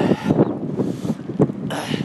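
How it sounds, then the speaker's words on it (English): Wind buffeting a microphone while riding a bike across the new nine-span bridge on Indianapolis Boulevard in Hammond, Indiana, on a cold day: loud, broadband gusty rumble that rises and falls throughout. "It's a little windy outside"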